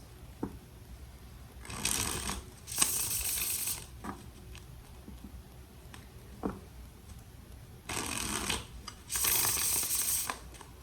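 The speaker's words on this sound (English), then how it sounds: "Two more shuffles." A deck of tarot cards is shuffled nearby in several separate bursts of riffling patter, with quiet gaps and light taps between the shuffles.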